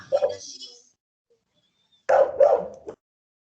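A dog barks in short bursts, one near the start and a double bark after a brief silence, fairly close and clear, in a room where a classroom lesson is going on.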